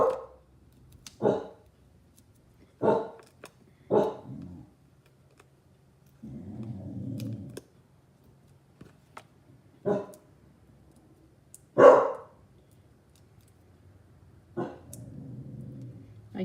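A pet dog barks indoors in several sharp, separate bursts spread across the stretch, fairly close and loud, with quieter rustling and handling noises in the gaps between barks.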